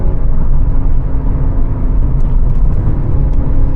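Porsche GT3, its first generation, driving along a road: a steady, loud engine drone and low rumble fills the whole stretch with no clear revving peaks and no talk.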